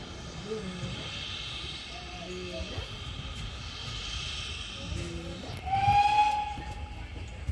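Steam locomotive 7828 Odney Manor on the West Somerset Railway at Watchet sounds a clear whistle near the end, following a stretch of background station noise and faint voices.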